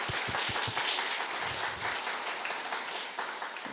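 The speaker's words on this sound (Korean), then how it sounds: "귀한 예배당에 허락하신 하나님께 우리 감사의 박수 좀 같이 올려드렸으면 좋겠습니다" Church congregation applauding together in thanks during a Sunday worship service, a steady, moderately distant wash of clapping with a few sharper claps early on.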